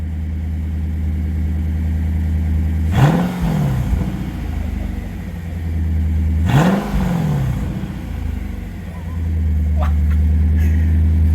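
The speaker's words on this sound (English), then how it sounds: "Go give it a blip of gas, bro." A car with an Apex'i non-resonated exhaust idles with a deep rumble, then blips twice to rising, falling revs, loud and close, with faint voices in the background.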